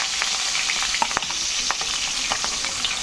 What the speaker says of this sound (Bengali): ওই দিকটা ভাজা হোক